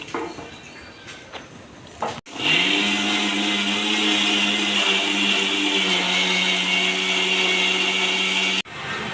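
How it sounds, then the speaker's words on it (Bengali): A blender whirs loudly and steadily for about six seconds while blending leaves, starting abruptly and cutting off sharply, with faint handling noise before it starts. "আমি আগে ব্লেন্ডারে ব্লেন্ড করে লই"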